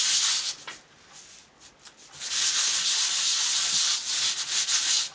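Sandpaper rubbed over fresco plaster in small circular strokes, a steady close rasping hiss that dips briefly, then runs continuous and loud to the end.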